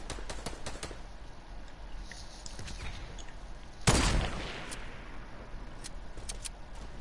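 Scattered sharp gunshots ring out in a video game, mostly faint single cracks with one louder, closer shot and its decaying echo in the middle.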